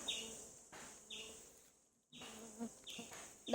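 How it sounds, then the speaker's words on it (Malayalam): Stingless bees buzz in repeated short bursts close by as they fly out of their hive, the droning fading and returning, with a brief quiet gap midway. "നോക്കിക്കോളൂ എല്ലാ ഈച്ചകളും കൂടി പറന്ന് പോണത്"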